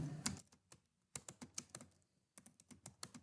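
Quick bursts of keystrokes on a computer keyboard, close and crisp, in uneven clusters with brief pauses while HTML headings are entered on a website.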